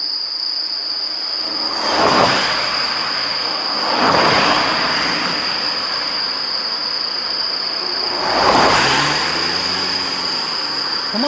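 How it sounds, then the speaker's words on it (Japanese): Heavy car traffic on a road in Mie Prefecture, Japan, with three vehicles whooshing past at intervals over a steady high insect drone, fairly close and loud, no talk. "車の通りが激しい。"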